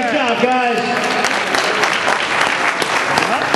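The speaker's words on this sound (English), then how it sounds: "round of applause for all of our male contestants." A crowd at a cosplay contest claps loudly and steadily, dense applause filling the space, with a voice briefly speaking over it at the beginning.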